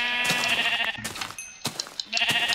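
Blocky Minecraft sheep bleat several times in quick succession, the nasal game calls coming close and moderately loud with short gaps between them and no talking.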